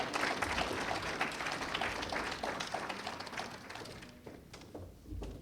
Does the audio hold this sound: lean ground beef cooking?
no